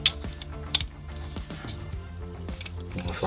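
Plastic mount of a Tokyo Marui Micro Pro Sight being loosened, giving a run of small clicking, ratcheting mechanical ticks with a few sharper snaps, close and quiet, with no one talking.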